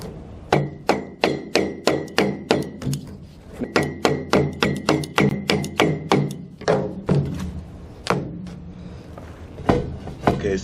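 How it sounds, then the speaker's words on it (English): A drain pipe is hammered back toward a downspout fitting, a series of sharp, evenly spaced thuds in two quick runs of about eight blows each, followed by a few slower, scattered knocks, close and loud. "now we'll pound the pipe back towards the downspout into the fitting"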